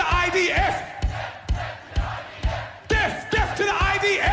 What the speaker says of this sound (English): the crowd actually starts chanting it with him